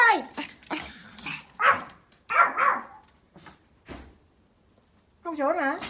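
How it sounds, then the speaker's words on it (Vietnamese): A Pomeranian barks and yips outdoors in several sharp bursts with short whimpering sounds between them. A person speaks in the gaps and over some of the barks. "Không sủa nữa."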